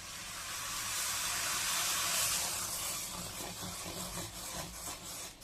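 Milk tea boiling in a pot on the stove, a steady bubbling hiss that swells and then settles into rougher, popping simmer.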